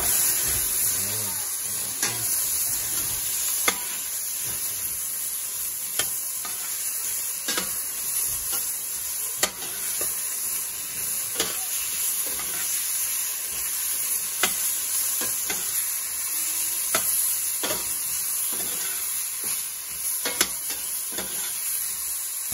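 Tomatoes sizzle steadily in a hot pot of salmon miso sinigang while a spoon stirs them, giving a constant frying hiss with regular scraping clicks close by and no talking.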